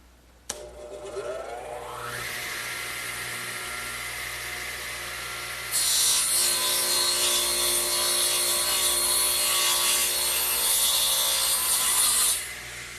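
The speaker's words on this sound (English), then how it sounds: "since I have the radial arm here, I'm going to do it with that." A radial arm saw cutting wood with plywood backing, the motor spinning up with a rising whine, then the blade biting in with a louder, brighter roar for several seconds before the cut ends, close and steady, no speech.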